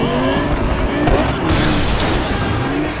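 Car exhaust in Cyberpunk 2077 after the 2.0 update, a steady loud engine roar with crackling pops and bangs and a downshift in the middle.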